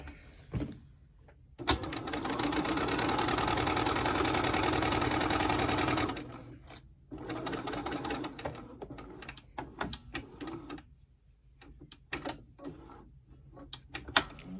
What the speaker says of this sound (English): So we are going to baste that raw edge down just like we did a minute ago.